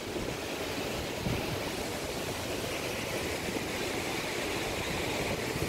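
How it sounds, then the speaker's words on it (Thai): Strongly flowing river water in Cambridge, England, rushes in a steady, dense broadband wash with no pauses, moderately loud and constant throughout. "ได้ยินเสียงน้ำไหลไหมคะ น้ำไหลแรงมากเลย"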